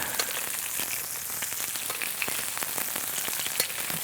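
Thick NY strip steaks sizzle and crackle steadily in a hot skillet with butter and garlic, a loud, continuous frying hiss dotted with sharp pops and spatters, close by with no talking.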